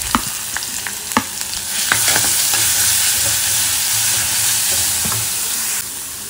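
Crushed ginger, garlic and green chilli sauté in hot oil for a prawn stir-fry, giving a steady close sizzle with intermittent stirring scrapes and clicks, no talking.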